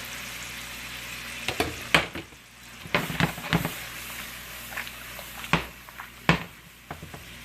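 Okra juice hits a pan of shrimp linguini, the contents sizzling steadily with a constant frying hiss, broken by a few louder clatters of stirring and scraping.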